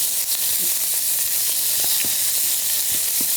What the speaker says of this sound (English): you're just looking for just a nice quick sear